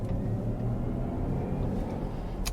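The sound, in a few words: Jaguar I-Pace electric SUV in-cabin performance tone, dynamic setting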